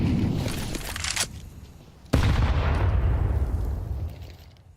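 Auto shotgun blasts in a Counter-Strike professional match, two heavy booming shots with long decaying tails, loud and close.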